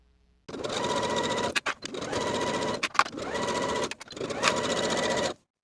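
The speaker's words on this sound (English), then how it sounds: "I chose to use a wider zigzag stitch to finish those side seams together on both sides" A sewing machine runs a wide zigzag stitch along a skirt's side seams in four loud, sustained bursts separated by short stops, close and with no talking.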